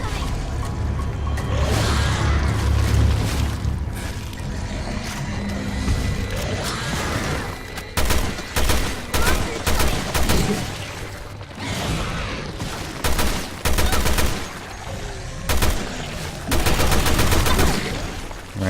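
Gunfire in the video game Resident Evil Revelations 2 comes as a series of loud, heavy shots spaced a second or so apart over a dense, rumbling background of game effects.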